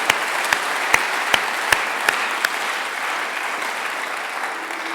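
A church congregation applauding the Lord, a broad steady wash of clapping from many hands, fairly near, with a few sharp louder claps standing out early on.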